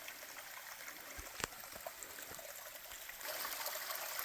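A thin trickle of water runs over wet, mossy rock among boulders, a steady soft burble with a few small splashes, faint and fairly close in quiet outdoor air.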